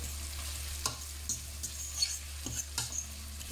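Onions fry in oil, a soft steady sizzle with a low hum underneath and brief scraping stirs, quiet and close with no talk.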